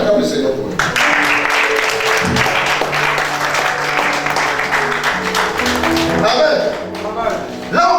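A church congregation applauds to acclaim the Lord, with sustained, dense clapping from a large crowd filling the room, mixed with voices and music.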